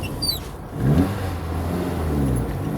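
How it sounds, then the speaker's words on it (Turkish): A 1977 Ford Taunus 1.6 GL engine hums and rises slightly while driving, a steady mid-pitched drone with a brief swell near the start, heard close from inside the car. "Güzel de bir ses veriyor aracımız görüyorsunuz zaten"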